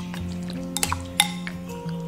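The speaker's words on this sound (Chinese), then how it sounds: "再次给它搅匀。" Tofu fish marinated with soybean paste and a little starch is stirred in a bowl: a spoon scrapes and clinks against the dish a few times over a low, steady background hum.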